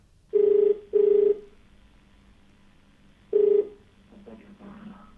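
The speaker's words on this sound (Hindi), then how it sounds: "तो लगाते हैं अपने अगले कॉलर को कॉल।" Outgoing phone call ringback tone: three short steady beeps, two close together and one after a pause, followed by a faint distant voice answering.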